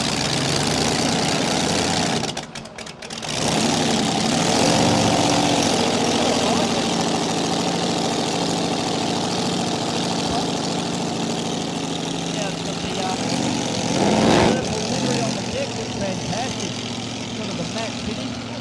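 Supercharged alcohol-fuelled engine of an unlimited displacement race boat running at a club race day on Lake Glenmaggie. It gives a loud, steady, rough rumble that continues throughout, with a brief dip early on and a slight swell near the end.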